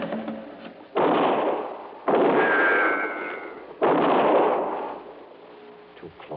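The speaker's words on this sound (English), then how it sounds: "your last shot, wasn't it, Frankie?" Three loud gunshots go off about a second apart in an old radio detective drama, each one booming and then fading into a short echo, with a brief voice after the last.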